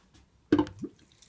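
Water poured onto usnea lichen plant matter in a pot for an alcohol-free tincture, one short splashing burst with a small trailing drip, close and alone.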